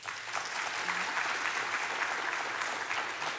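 An audience at a Mesa community meeting breaks into applause, a steady, even patter of many hands heard from a distance, fairly quiet, lasting a few seconds without talk.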